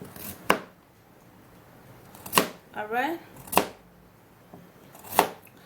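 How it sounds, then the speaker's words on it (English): Knife chopping carrots into tiny pieces on a cutting board: four sharp, separate thuds spaced over several seconds, with a brief spoken word between them. "I'm gonna be cutting the carrots in little tiny pieces"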